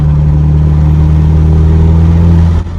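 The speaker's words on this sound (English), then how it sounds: "That was a little brake boost and then getting into it, and this is a downshift into third." Camaro 2.0T turbo four with a muffler delete, loud and close, holding a steady droning pull under boost before revs drop sharply at the end as it downshifts.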